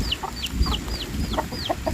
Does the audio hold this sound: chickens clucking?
yes